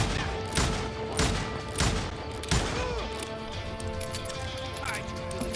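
Gunfire in the Western shooter Call of Juarez Gunslinger: several sharp shots ring out about a second apart over a steady ambient game backdrop, fairly distant and moderate in level.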